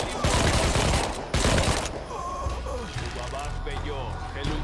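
Rapid automatic Uzi fire rings out in Shadow of the Tomb Raider, with two loud sustained bursts in the first two seconds. Quieter game effects and tonal sounds follow, and a voice talks over parts of the clip.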